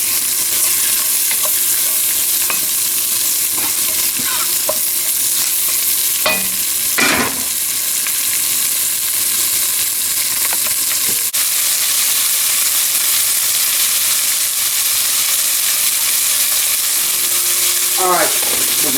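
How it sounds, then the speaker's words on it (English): Sausage fat renders in a hot pan with a loud, steady sizzle and crackle that runs throughout, with a few clinks of a utensil stirring and scraping along the way. "we're going to start rendering this down. Get some of this fat out of this sausage."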